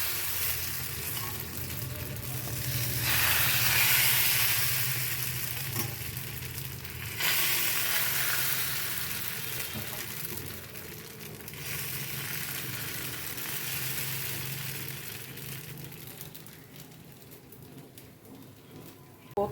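Thin neer dosa batter of rice sizzling on a very hot pan, a continuous close hiss that swells and fades over the stretch, with faint bird calls in the background and no talk.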